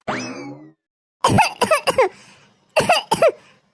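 A drawn-out strained vocal sound, then two bursts of harsh, rasping coughs, loud and close.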